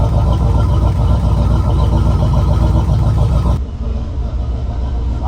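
A boat's port inboard engine runs with a loud, steady low rumble and idle chug, then drops to a quieter, thinner idle near the end; no one speaks.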